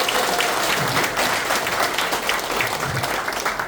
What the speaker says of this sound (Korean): 더 큰 박수로 좀 환영해 주십시오.